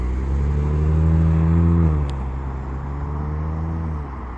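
A Mk2 Audi S5 coupe's engine drones steadily and loudly, rising in pitch as the car accelerates. Around the midpoint it drops to a lower, even hum and stays there to the end.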